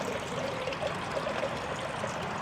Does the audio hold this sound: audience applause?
no